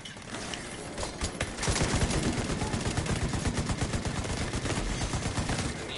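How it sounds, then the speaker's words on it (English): Sustained rapid gunfire pours in during a Division 2 firefight, loud and dense bursts of automatic shots that intensify after the first couple of seconds and continue without pause. "I'm getting shot in the back."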